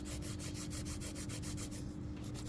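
A coarse nail file rasps across an acrylic nail in quick, even back-and-forth strokes, close and soft, with a faint steady hum underneath.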